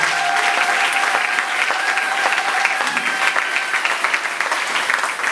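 A church congregation applauds loudly and steadily throughout, a dense wash of clapping with some crowd noise and no break.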